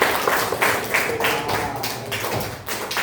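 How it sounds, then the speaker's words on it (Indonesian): Audience clapping for the top-scoring student at a university teacher-certification ceremony, a steady, dense patter of hand claps that is fairly close and continuous through the moment. "Tepuk tangan dulu untuk Ananda Faiz Saki."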